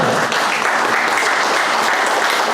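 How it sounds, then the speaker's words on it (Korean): Lecture listeners break into vigorous applause during a former CIA agent's speech in Washington, a thick, loud and continuous wash of clapping from start to finish. "박수 쳐요"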